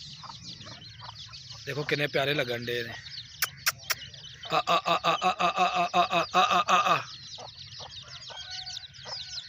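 A village hen clucks in short rhythmic bursts near her small chicks, whose thin high peeps chirp in between, while someone talks over the birds.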